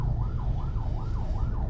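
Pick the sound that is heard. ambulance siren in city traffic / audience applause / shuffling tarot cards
ambulance siren in city traffic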